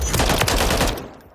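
A fast burst of G36C compact rifle fire in Call of Duty Modern Warfare III, loud and close, rattling for about a second before cutting off and fading.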